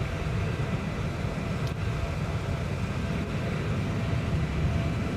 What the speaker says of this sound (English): I could listen to the sound of this engine for about 12 hours